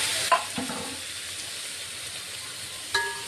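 Tomato and paneer fry in a pan for paneer biryani, giving a steady soft sizzle with a few scraping stirs and clinks of a utensil against the pan.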